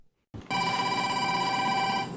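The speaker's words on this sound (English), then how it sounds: "Then one day at work, her phone rang." A telephone at a workplace starts ringing after a brief silence, a sustained, bright electronic ring that stays loud and continuous, heard alone without talk.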